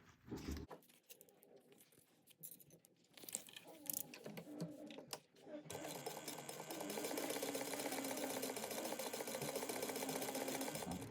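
A sewing machine bastes zipper tape to fabric, starting with soft handling clicks and rustles, then running in a steady fast stitching whir for several seconds, close and fairly quiet.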